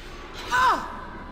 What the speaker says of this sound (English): Let's do a bit of a force scream on them.